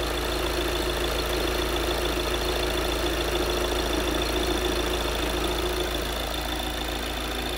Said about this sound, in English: here's the car running